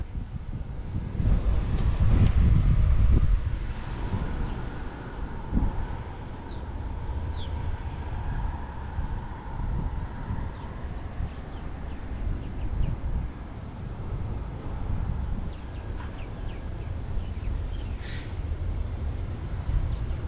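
Wind gusting outdoors on a morning fishing trip, a steady low rumble and buffeting against the microphone, strongest near the start and then continuing evenly throughout, with no talking.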